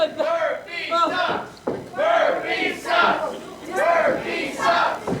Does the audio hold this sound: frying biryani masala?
no